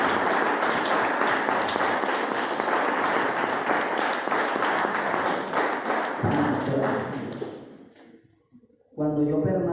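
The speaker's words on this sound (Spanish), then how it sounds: "Dale un fuerte aplauso al Señor." An audience at a youth sermon breaks into sustained applause, many hands clapping in a dense, even wash that fades out after several seconds, followed by a brief lull before a voice begins speaking.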